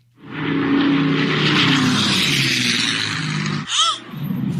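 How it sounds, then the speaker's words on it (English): Two planes, one a Bell P-63 Kingcobra, collide midair over Dallas: a loud propeller engine roar builds and holds for several seconds, then breaks off abruptly into a brief whining, wavering sweep before a lower rumble resumes. "This is just some audio captured by spectators when those two planes collided."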